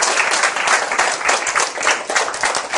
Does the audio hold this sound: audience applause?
yes